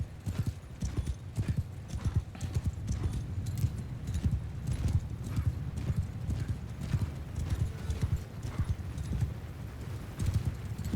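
Horse hooves clip-clop steadily and rapidly in a Mount & Blade II Bannerlord battle, a continuous moderate drum of many gallops layered together, with faint whinnies in the mix.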